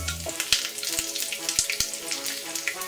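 Mustard seeds splutter in hot oil for tomato chutney, a steady crackling sizzle with several sharp pops, close and fairly loud, with faint talk underneath.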